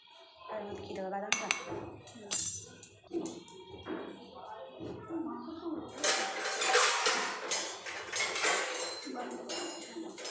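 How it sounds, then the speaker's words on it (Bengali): A spoon scrapes and pokes seeds out of a pointed gourd, giving close, scratchy rasps and clicks in irregular bursts that grow denser and louder in the second half. "পটলের ভিতর থেকে বিচি কীভাবে চামচ দিয়ে খুঁচিয়ে খুঁচিয়ে বের করতে হয়"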